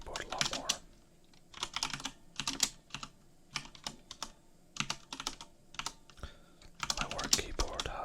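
Clattering keystrokes on a Corsair K95 mechanical keyboard with Cherry MX Speed switches, close and crisp, typed in uneven quick bursts with brief pauses and a faint whispered voice now and then.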